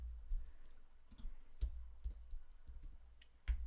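Computer keyboard typing, soft scattered key clicks in irregular short bursts, close but quiet, with no talking over them.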